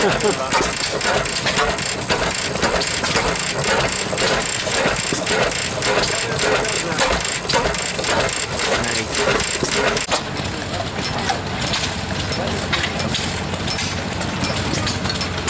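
Antique stationary gas engine at a steam show thumps along with a steady, rapid rhythm among other machinery, loud and close, with voices talking over it throughout and the tone shifting a little after about ten seconds.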